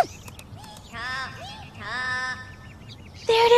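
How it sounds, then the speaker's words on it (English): A strange, warbling bird call repeats in short sliding bursts, clear and fairly close, followed by a louder burst at the end. "I've never heard a bird call like that before."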